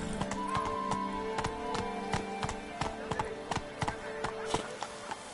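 Roach, the horse in The Witcher 3 video game, gallops with quick, regular hoofbeats in a steady rhythm, close and clear over a faint tonal game background.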